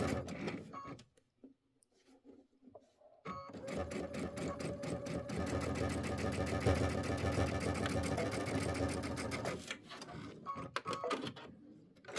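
A sewing machine runs steadily for about six seconds, stitching a few locking stitches at the end of a Kimberbell Star Spangled Beauty quilt block, with a brief mechanical burst before it and quiet around.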